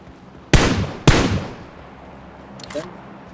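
Gunfire in the mobile shooter BGMI, two sharp loud shots about half a second apart, followed by a fainter burst of clatter a moment later.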